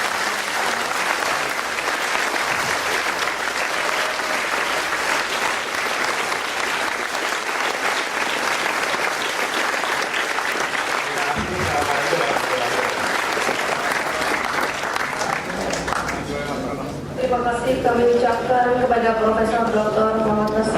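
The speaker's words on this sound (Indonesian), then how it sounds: "Mari kita beri aplaus kepada Prof. Habibie." An audience claps for Prof. Habibie at an academic studio event, dense sustained applause filling the room for most of the stretch, then fading as a voice begins speaking near the end.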